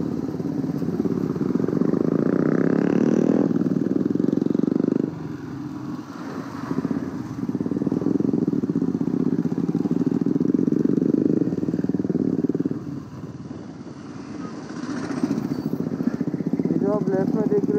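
A Royal Enfield motorcycle rides along a coastal road near Kashid Beach, Alibaug, its steady thumping engine drone loud and continuous with wind, while a rider talks over it throughout.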